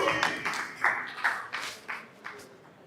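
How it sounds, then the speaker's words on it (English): A small audience at a campus event claps in a few loose, scattered bursts, moderately close and fairly quiet, with no talk over it. "Clap for yourself, guys."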